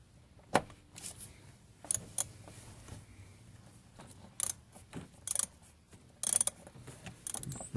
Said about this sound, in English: Connect that to the 1/2" wrench, socket wrench, and take her home.